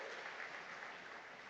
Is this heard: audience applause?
yes